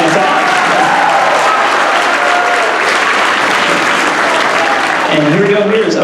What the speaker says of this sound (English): Can we get a round of applause for Mr. Noah Schrader on the back on tuba, helping us out?